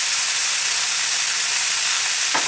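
Vegetables hit a hot Helen Chen wok with a loud, steady, steam-like hiss that fills the whole moment, broad and close, with no talking over it.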